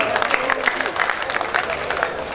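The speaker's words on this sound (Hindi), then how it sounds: "आपकी जोरदार तालियां" Audience applause at a Hindi kavi sammelan poetry gathering at a festival in Jalore, a dense moderate patter of many hands clapping with faint crowd murmur throughout.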